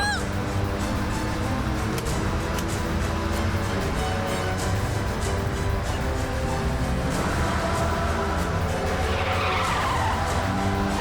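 A car races away in a chase with tires skidding and squealing, a steady loud engine roar throughout and a rising screech near the end, set against background music.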